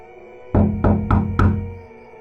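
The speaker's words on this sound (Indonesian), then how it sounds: "Terdengar ketukan pintu." Four sharp knocks on a wooden door in quick, slightly uneven succession, close and loud against a quiet background.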